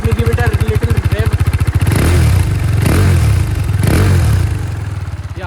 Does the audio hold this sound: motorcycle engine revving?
yes